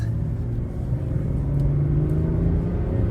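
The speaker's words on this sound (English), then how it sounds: "The diesel at half throttle puts its power down pretty well." A 2024 Chevrolet Silverado ZR2 Bison diesel pickup drives through unplowed snow at half throttle, its engine a steady, close low rumble with a smooth drone throughout.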